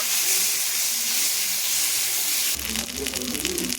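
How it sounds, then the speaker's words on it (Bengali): Ginger-garlic paste fries with onions in hot oil for a katla fish head murighonto, giving a steady, loud, close sizzle and hiss that shifts into a rougher crackle partway through. "এটা দিয়ে আমি পেঁয়াজটার সাথে আদা রসুনটাকেও ভালো করে ভেজে নেব"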